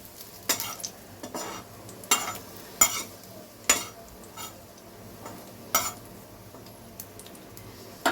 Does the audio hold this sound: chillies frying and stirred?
yes